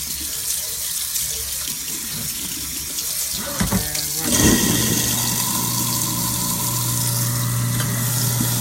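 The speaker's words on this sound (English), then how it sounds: "how about I rinse the sink out first?" Water runs from a tap into a sink as it is rinsed out, a steady close gush that starts mid-clip after some handling noise and keeps flowing to the end.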